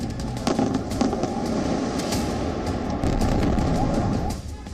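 Explosions from Israeli air strikes on Gaza at night: a continuous heavy rumble with repeated sharp blasts and crackling bursts, loud and dense throughout.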